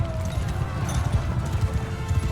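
Horse hooves clatter in a quick, uneven clip-clop during a battle in the video game Mount & Blade II Bannerlord, close and busy over a low battlefield rumble, with whinnies in the mix.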